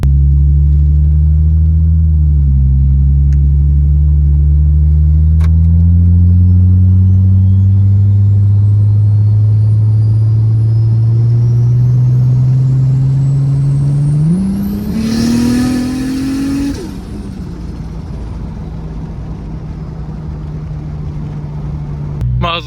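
A Toyota Aristo with a 2JZ engine on a full-boost pull at 26 psi: a loud, close engine drone climbs steadily in pitch, surges to a peak with a burst of intake and exhaust noise, then backs off to a lower idle-like rumble.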